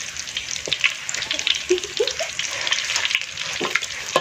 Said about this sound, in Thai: ทอดไปทอดไปเรื่อยๆทอดเป็นสีเหลืองๆสีเหลืองพอนะครับ